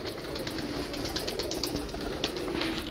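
Pigeons coo steadily in a loft kept by a fancier, low and soft against a constant background hiss.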